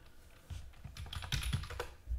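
Name being typed on a computer keyboard for a game called BearQuest, a quick run of close, crisp key clicks with a few louder taps, no voices.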